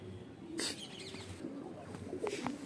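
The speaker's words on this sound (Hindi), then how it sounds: "ये मेरी मेन कबूतरी है गोल्डन, पूरे सेटअप की।" A golden pet pigeon, the main female of a racing pigeon setup, gives a few soft coos and brief calls nearby, over quiet background noise.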